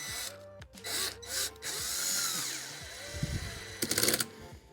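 A power drill driving screws into a SoBuy shoe cabinet, its clutch slipping with a rapid ratcheting whir that rises and falls in several close, loud bursts, ending in sharper clattering clicks.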